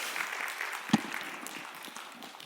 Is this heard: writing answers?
no